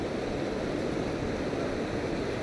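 Steady rushing of water at a river near Muktinath, a continuous broadband wash with no voices over it.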